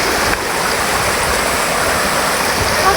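Water of a river stream rushes steadily and loudly throughout, a continuous broadband flow heard close by with no talking.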